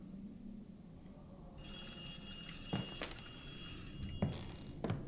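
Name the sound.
telephone ringing in a horror video game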